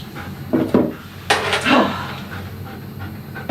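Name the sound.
dog panting in the bathtub during grooming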